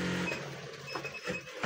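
A sewing machine stitches a maggam work cut-work blouse of canvas and lining, running in short mechanical bursts with a whirring, printer-like rattle, close and moderately loud.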